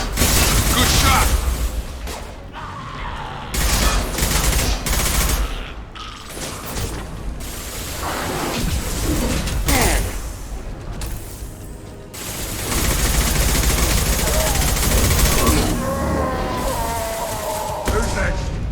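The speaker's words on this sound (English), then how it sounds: "Concussive shot! Good shot!" Mass Effect 2 firefight with concussive shots and gunfire, loud clattering bursts and mechanical clanks in irregular clusters, with voices calling out between volleys.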